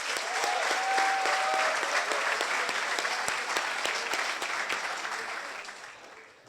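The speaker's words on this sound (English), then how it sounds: "I'd like to give a round of applause to our great band" An assembly audience applauds the band with dense, brisk clapping and scattered sharp individual claps, holding steady before tapering off toward the end.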